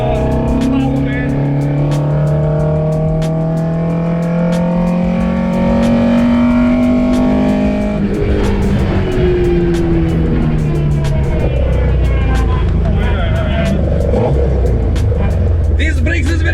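An Opel Superboss engine on individual throttle bodies revs up and down loudly and close toward about 7,600 rpm, rising and falling in pitch, then settles into a rougher drone, with voices talking over it.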